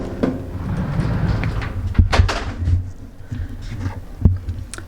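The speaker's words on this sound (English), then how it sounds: "Also, you get this drawer to store your stuff." In a hostel room, a storage drawer slides open and shut, producing several sharp close knocks and wooden sliding rumbles in quick succession over a steady room background.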